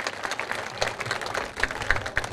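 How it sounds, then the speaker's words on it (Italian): An audience at a concert gives a singer a short burst of scattered clapping, moderately loud and close, with no voices over it. "Grazie, grazie per l'applauso"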